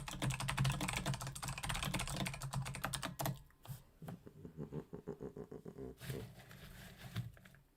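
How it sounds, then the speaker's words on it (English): Rapid keystrokes on a mechanical keyboard clatter loudly and densely, then thin into separate, spaced clicks toward the end, with no voices. "Enrique, it's a mechanical keyboard"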